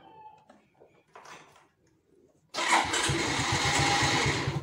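A motorcycle engine cranks and catches, a loud continuous rumble suddenly starting after a few seconds of quiet background noise.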